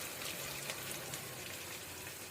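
Curry leaves splutter in hot oil, a soft, even crackle and patter that runs faintly and continuously with no voices.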